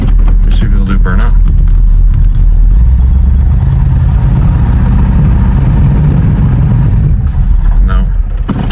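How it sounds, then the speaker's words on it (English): Project car with a loose, floaty front end revs its engine hard in a burnout attempt, a loud sustained low roar with rising and falling surges throughout, voices briefly heard over it. "let's see if it'll do burnout."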